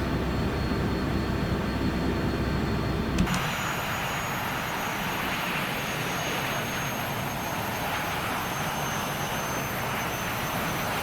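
Sabreliner jet engines in a flight simulator whine steadily, then the tone drops abruptly as the throttle is pulled back, leaving a lower, sustained turbine roar with a faint high whistle running on alone.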